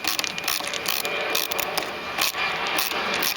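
A ratchet driver clicks rapidly and steadily, close up, driving a screw into a 1998–2005 Ford Ranger seat assembly.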